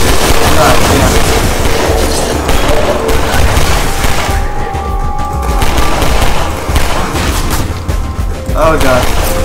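Dense video game gunfire with rapid bursts and heavy booms runs loud and continuous throughout, mixed with game sounds and a voice talking over it.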